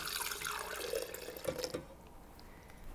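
Milk cooled to 110 degrees Fahrenheit pours into a jar for homemade yogurt, a close liquid stream with watery splashing that runs for about two seconds and then stops.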